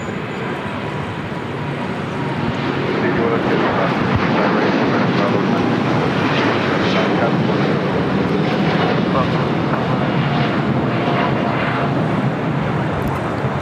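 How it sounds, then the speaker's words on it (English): Air Premia Boeing 787-9 Dreamliner taking off, a steady broad jet engine roar that builds slightly and holds loud for the whole stretch, with faint talk in the background. "102, taking off to Seoul on the 787-9 Dreamliner."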